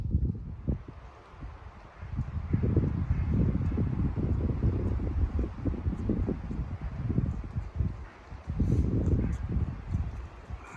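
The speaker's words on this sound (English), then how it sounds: "She's windy today, folks. She's windy." Steady wind buffets the microphone with low rumbling gusts, rising and falling throughout, with leaves rustling faintly in the background, outdoors in the Ore Mountains, Germany.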